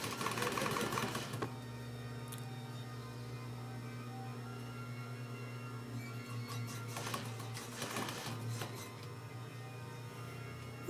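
Sewing machine over-sewing a seam on a quilt made from jeans, a steady motor hum running throughout at moderate level, with a brief louder stretch at the start and a few bursts of added noise near the end.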